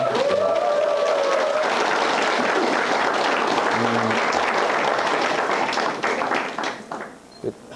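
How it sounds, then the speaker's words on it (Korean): A seated crowd at a citizens' association general assembly gives welcoming applause, a dense, loud, steady wash of many hands that thins out and fades into scattered claps at the end. "서로서로 환영의 박수 한번 쳐주시죠"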